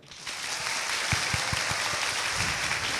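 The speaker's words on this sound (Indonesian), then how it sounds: "Mana tepuk tangannya?" An audience at an Islamic lecture applauds, making a steady, dense wash of clapping that holds for the whole stretch, with a few distinct claps in the middle.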